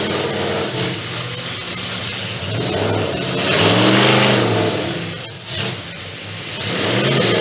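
A race car engine at a night dirt track race at the Great Stoneboro Fair, loud and close, rising and falling in pitch as the car revs through the laps, with no talking over it.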